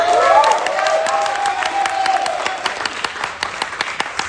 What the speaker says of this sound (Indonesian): Tepuk tangan lagi buat caketum kita.